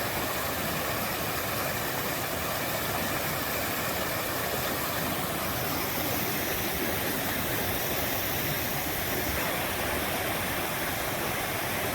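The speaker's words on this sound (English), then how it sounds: "Beautiful little creek here." A small woodland creek rushes steadily and close by, a dense, unbroken wash of flowing water that fills the whole stretch with no pauses.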